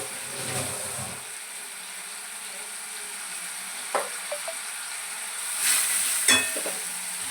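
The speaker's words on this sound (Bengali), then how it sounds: "রসুনটা ভেজে ফেলবে।" Garlic paste frying in a pan, a soft, steady sizzle with a few faint scrapes and clicks from stirring, close but quiet.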